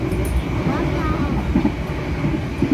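Steady low rumble of the Airlangga train rolling along rails near Bojonegoro station in Indonesia, with faint rhythmic clatter and a constant mechanical drone throughout.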